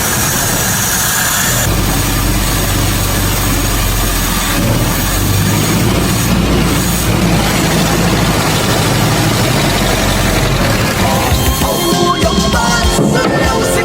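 A car engine runs after repair, a loud continuous close-up drone with a deep rumble that holds steady before its tone roughens and shifts near the end.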